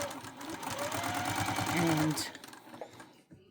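A Juki sewing machine stitches a quilt-as-you-go piece from upcycled fabric, its needle running in a steady rapid whir that swells briefly and then stops, with a person talking over it.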